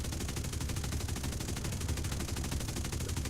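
Aircraft guns fire in War Thunder, a steady, continuous rattle of rapid automatic fire that is dense and even throughout, with no voices.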